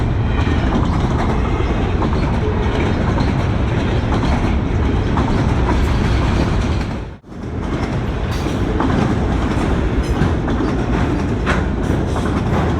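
A Norfolk Southern manifest freight train of mixed cars, trash cars and auto racks rolls past on the D&H line with loud, continuous wheel rumble and rhythmic clickety-clack. There is a brief dip in the middle, and no voices are heard.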